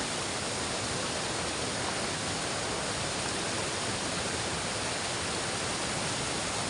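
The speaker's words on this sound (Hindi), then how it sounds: "ये नाला निकलता है।" Mountain stream in an Uttarakhand village flowing steadily, a dense constant rush of water, close and unbroken throughout.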